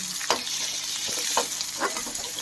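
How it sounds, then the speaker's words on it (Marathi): Ginger garlic paste fries with onions in a pan, a steady close sizzle broken by a few soft scrapes of stirring. "अद्रक लसूणची पेस्ट थोडं टाकायचं"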